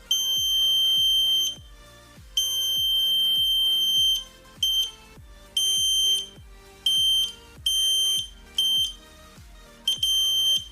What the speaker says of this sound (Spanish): Vemos que son de bajo valor porque nos suena mucho el buzzer